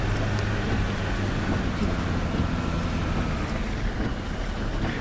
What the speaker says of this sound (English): I just think we have a noisy engine there.